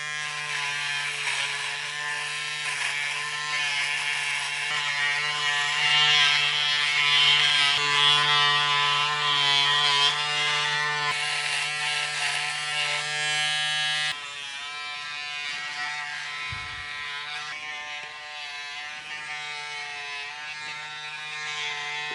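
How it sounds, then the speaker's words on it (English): A Braun Series 5 (5018) electric foil shaver runs for over twenty seconds with a constant close buzzing hum, whose pitch and grain shift slightly as it moves over stubble and drop a little toward the end. No one speaks. "Time to start shaving."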